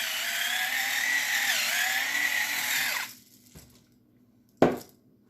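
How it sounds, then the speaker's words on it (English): A new electric pepper grinder whirs loudly for about three seconds while cooking meatloaf, then stops, followed by a short quiet and a single sharp clunk. "Then my fancy new electric pepper grinder."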